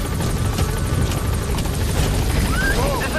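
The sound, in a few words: support helicopter arriving, from video game Metal Gear Solid V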